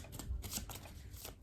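A deck of tarot cards is shuffled in a quick, soft riffling flutter for about a second and a half, close and faint.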